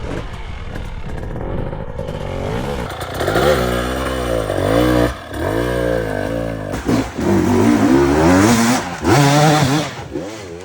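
Dirt bike engine revving hard off-road, loud and close, with repeated rising and falling throttle bursts and brief drops between revs as the rider works the bike.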